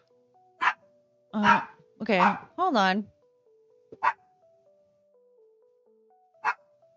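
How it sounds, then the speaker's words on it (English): Dogs bark in short sharp bursts, a couple of clustered barks early then isolated single barks later, against quiet room tone, with a person briefly speaking between them. "Oh my God, these dogs!"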